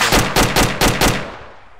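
Rapid weapon fire in the video game ArmA 2 with the ACE mod, in a quick series of about five or six loud, punchy bangs followed by a fading echo tail.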